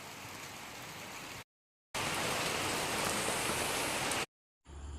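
Dense, steady hiss of heavy rain pouring down, loud and close, broken by two brief silent gaps.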